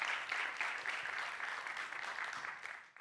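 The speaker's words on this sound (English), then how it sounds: "He deserves one more round of applause for that" Audience applause at the FameLab International science communication semi-final in 2016, many hands clapping in a dense, even wash that holds steady for several seconds, then drops away at the end.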